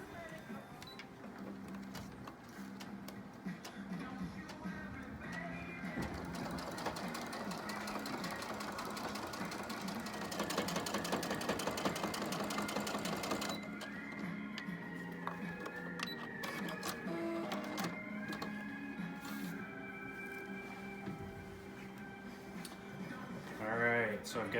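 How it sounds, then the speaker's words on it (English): A sewing machine stitches paracord across a line onto a homemade fabric face mask, running steadily in a continuous, moderately loud whir through most of the span with faint ticking. "stitch right across that line to hold that paracord in place"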